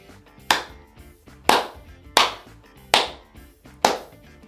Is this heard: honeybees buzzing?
no